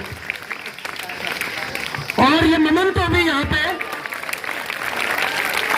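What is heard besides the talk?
staff and students applauding at school felicitation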